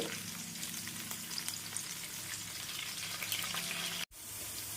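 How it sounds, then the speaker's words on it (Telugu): Onions and green chillies fry lightly in a generous amount of oil for prawn curry, a steady, close hiss and crackle of sizzling that continues evenly before a brief sharp cut near the end. "వీటిని కొంచెం వేపుకుందాం లైట్గా వేగేలాగా"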